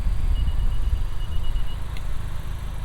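Cabin drone of a 2021 Honda Civic Type R Limited Edition on the road, a steady low rumble of engine and road noise with a faint repeating beep above it.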